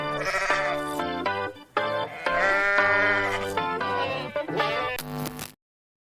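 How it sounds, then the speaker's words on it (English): A goat bleat sound effect is played as a drop: loud, wavering, nasal bleats come in several bursts with short gaps, then cut off abruptly into silence. "I was hoping that you would make a goat noise yourself instead of doing the drop"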